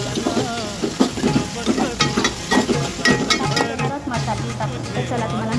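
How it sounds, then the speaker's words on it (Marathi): Chopped tomatoes and chillies stirred in a frying pan for a shrimp curry, with steady sizzling and scraping stir strokes close by, and a voice speaking intermittently over the cooking. "तर चला आपण आता मिक्स करून घेऊया."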